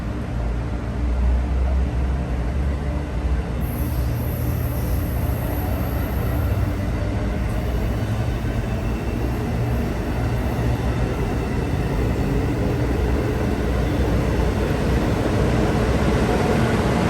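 An Amtrak Acela high-speed train departs Wilmington station with a steady, loud roar and rumble of rail noise that continues throughout, heard from a nearby train, with no talking.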